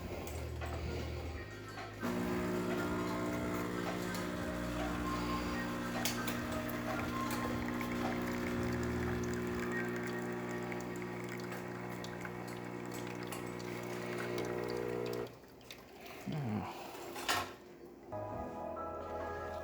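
A Delonghi Perfecta espresso machine brews a shot with a steady buzzing pump drone that holds for several seconds, then stops with a few gurgles and clicks, close and moderately quiet.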